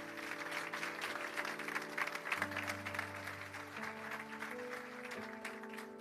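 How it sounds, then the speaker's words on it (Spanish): Applause from a gathered audience at a church or community event, held up to a microphone, a continuous steady clatter of many hands at moderate distance, mixed with a sustained musical tone underneath. "Les pongo el micrófono para que escuchen el aplauso, mirá."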